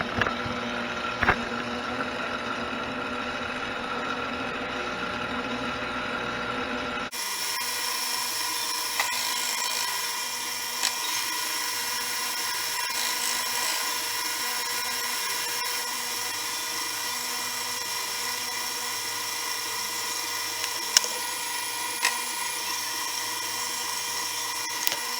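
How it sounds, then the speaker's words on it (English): A power grinder works down weld beads on a repaired transfer case, a steady high-pitched whine that runs continuously and fairly loud for the whole stretch, with a shift in tone partway through and no talking. "We're churning this bad Betty down on the welds we did"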